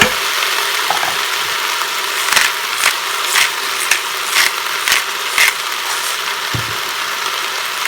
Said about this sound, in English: We're going to give it a quick stir here.